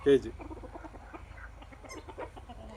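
Desi country chickens on a poultry farm cluck in a steady, close run of short calls, opening with one louder squawk and continuing under faint background voices.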